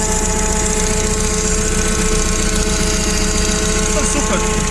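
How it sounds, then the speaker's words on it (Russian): A Komatsu FG20 gasoline forklift running cold, its engine idling in a steady buzzing drone with the hydraulic pump whining continuously underneath, loud and close, while someone talks over it. "Звук насоса гидравлического, он адекватно везде одинаковый, почти на вилочных погрузчиках, на холодную тем более"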